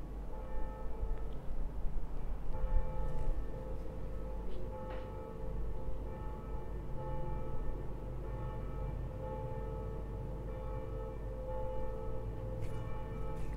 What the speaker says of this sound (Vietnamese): Tiếng chuông nhà thờ đang đổ.